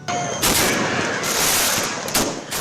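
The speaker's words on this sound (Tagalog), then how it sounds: "nagliwanag ang kalangitan dahil sa napakagandang fireworks display" A New Year fireworks display after a midnight mass, heard as a dense, continuous crackle of rapid bangs and pops from many distant and nearby shells. Several louder bursts stand out against the steady barrage.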